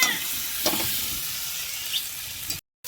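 Egg and soybean fry together in spiced oil in a pan, giving a steady close sizzle with a few soft stirring scrapes and no talk. The sound cuts off briefly near the end.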